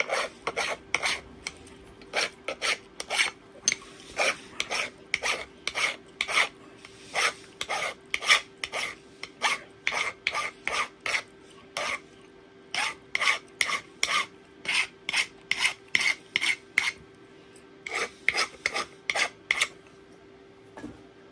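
Steady rhythmic rasping strokes of a metal flintknapping bar rubbed along the edge of a stone biface, roughly two short scrapes per second, close and crisp over a faint constant hum, no voices.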